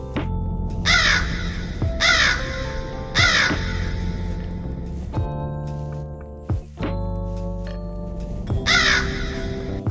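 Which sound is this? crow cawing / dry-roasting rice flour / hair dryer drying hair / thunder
crow cawing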